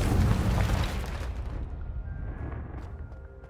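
Confringo blasting spell exploding in Hogwarts Legacy, a loud deep boom that rolls out at once and fades slowly over a few seconds, with no voices over it.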